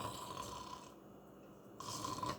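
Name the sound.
snoring imitated by a voice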